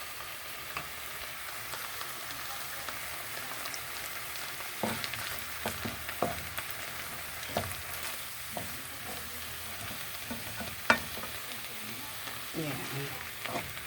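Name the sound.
beef steak frying in butter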